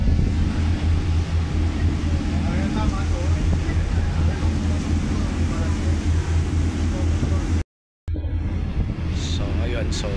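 Strong wind rushes across the open deck of a Fastcat ferry, a loud steady roar over a low engine drone, with a brief dropout near the end.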